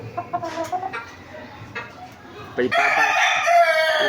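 A Golden Boy Sweater rooster, a gamecock, clucks in short bursts and then lets out one loud, close crow that carries to the end.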